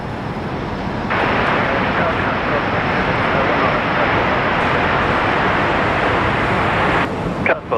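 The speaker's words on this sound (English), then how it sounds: "Qantas Link A220" A QantasLink Airbus A220 rolls for takeoff to Melbourne from Brisbane Airport, a loud, close jet roar that kicks in abruptly and holds at full strength for several seconds before cutting off sharply.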